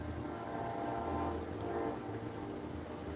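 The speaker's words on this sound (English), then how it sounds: "then you got the sound of a train in the background" A train rumbles steadily in the background beside Lake Michigan, a low continuous drone at moderate loudness with no voices.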